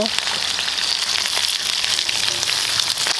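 Pork belly and abalone sizzle steadily in a hot pan, a dense, loud, continuous frying hiss heard up close with no talking over it.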